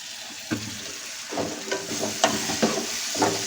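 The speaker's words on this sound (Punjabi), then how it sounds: "ਇਹਨਾਂ ਨੂੰ ਮਿਕਸ ਕਰਕੇ 1-2 ਮਿੰਟ ਵਾਸਤੇ ਆਲੂਆਂ ਨੂੰ ਵੀ ਤੜਕੇ 'ਚ ਆਪਾਂ ਚੰਗੀ ਤਰ੍ਹਾਂ ਭੁੰਨ ਲਵਾਂਗੇ" Cut potatoes stirred and fried in a hot spiced oil tempering for an aloo tori sabzi, a steady close sizzle broken by repeated scraping stir strokes of a spoon against the pan, with no talking.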